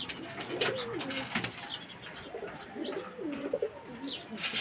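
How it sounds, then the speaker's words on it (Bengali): Pigeons cooing nearby in a loft, several rolling low coos repeating among faint chirps and light rustling, with no voices. "এই কালা কবুতরটা"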